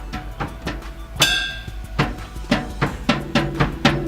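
Drum strokes on silent practice drumheads, played as a tutorial pattern for the rumba style No No Nanigo, with muffled hits grouped in quick clusters building in intensity, close and dry.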